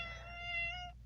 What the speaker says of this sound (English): And that's my cat coming in right now.